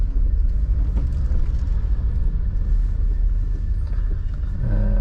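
A 2006 Suzuki Jimny 1.3, an off-road vehicle, driven through busy city streets, giving a steady low engine and road rumble with dense traffic noise throughout and no talking.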